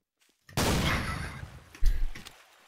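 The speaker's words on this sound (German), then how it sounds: "Ein Schuss." A gunshot in the multiplayer game TTT bursts out loud and sharp after a moment of silence, decays, then a second heavy blast follows about a second later, fading into quiet.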